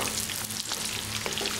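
Gooseberries frying in a pan over medium heat give a dense, even hiss and crackle, close and unbroken for a brief moment.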